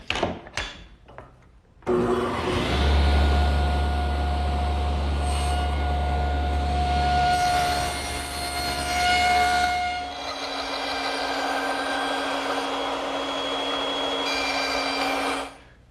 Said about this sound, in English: Now I've lowered the saw to about 1/16 of an inch to make these short shoulder